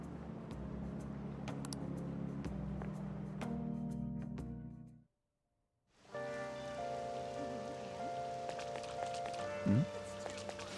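Steady rain pattering on surfaces, dense and continuous, cutting out briefly before resuming with faint tonal sounds underneath.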